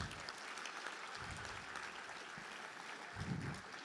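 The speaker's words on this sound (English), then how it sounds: "Round of applause." A crowd claps steadily for several seconds, a moderate round of applause that swells slightly near the end.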